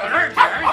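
A dog lets out a few short, yelping vocalizations close by, mixed with a person speaking over it in a brief burst.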